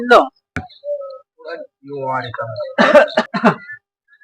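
Several sharp coughs and throat-clearing bursts close by, mixed in with brief bits of speech, the final coughs coming in a quick cluster of three.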